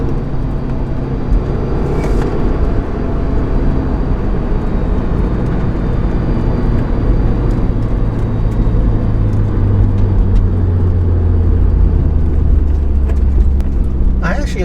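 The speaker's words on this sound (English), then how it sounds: "I actually like the turbo whine." A Subaru WRX Limited engine drones steadily with road rumble, a faint high turbo whine riding above the low roar, building slightly toward the end.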